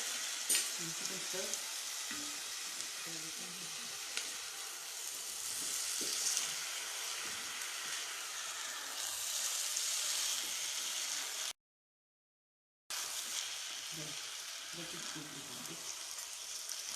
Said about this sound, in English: So we'll fry till golden